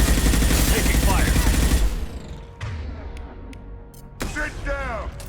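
Dense burst of gunfire from Mass Effect 2, loud and continuous for about two seconds, then sparser in-game effects and a voice speaking briefly.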